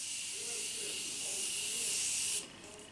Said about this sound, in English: Let me just go ahead and set with my new Morphe Concealer Setting Spray.